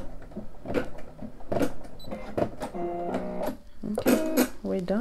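A Brother SE600 embroidery machine resumes stitching, giving a steady mechanical whir with rhythmic needle clatter, close and fairly loud, while a person talks over it.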